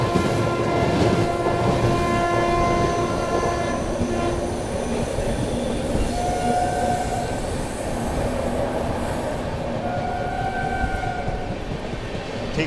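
The Goa Rajdhani Express rumbles steadily at speed, heard from inside the train, with wheels clattering on rails and faint squealing tones drifting over the continuous roar.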